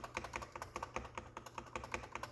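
Typing on a Symfuhny Matrix 65% mechanical keyboard, including its slightly hollow space bar, makes a steady, quick run of close, crisp key clacks with no talk.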